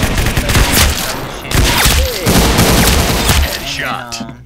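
Gunfire in a video game, with bursts of shots layered over someone talking, ending in a brief headshot sound near the close.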